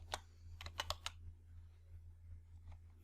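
Quiet keystrokes on a computer keyboard while entering a spreadsheet formula, a short burst of five or six crisp clicks followed by a couple of fainter taps over a steady low hum.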